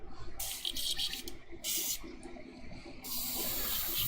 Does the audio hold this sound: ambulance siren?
no